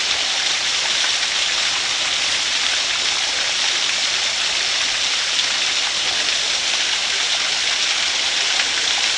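Water cascades over rock at Chimney Rock Park, a dense, continuous rushing roar that stays steady and close with no pauses.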